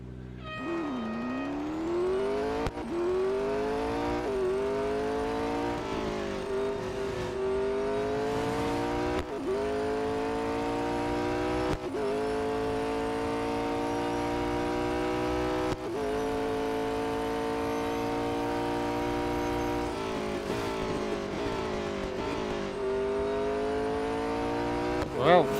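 Race car engine in Real Racing 3 screaming around Mount Panorama, a steady high-pitched whine rising and falling with gear changes throughout, loud and continuous.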